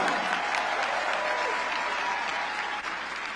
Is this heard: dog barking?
no